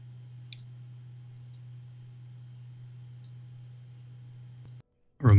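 Sparse, faint computer mouse clicks come through a desk microphone running an NVIDIA noise-removal filter in OBS. A few isolated ticks sit over a steady low electrical hum, and a louder burst of sound cuts in at the very end.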